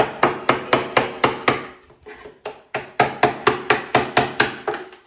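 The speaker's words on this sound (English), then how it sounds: "So if you just keep chiseling over," A chisel is struck repeatedly to knock loose plaster off an old kitchen wall, producing sharp, evenly spaced loud knocks in two quick bursts with a short pause between them, close and with no voices over them.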